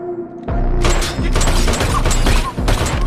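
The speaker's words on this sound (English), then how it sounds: "Shoot him again." Rapid bursts of gunfire in a movie scene, loud dense cracks and booms fired in quick succession, close and continuous for the whole stretch with no pause.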